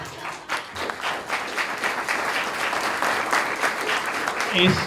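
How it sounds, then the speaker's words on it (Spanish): An audience at a university political science class applauds a newly graduated student, a dense, sustained round of clapping from many hands close by that runs through the whole stretch. "quiero pedir un aplauso para Martina Watch"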